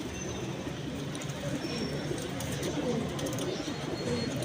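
Caged pigeons, including a female with a dub marking, coo softly and steadily under a dense wash of background noise.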